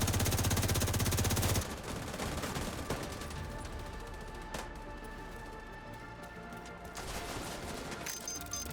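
Video game gunfire while shooting an enemy: a dense, rapid burst of shots for the first second and a half, then sustained loud rattling fire with scattered sharper cracks, alone with no voices.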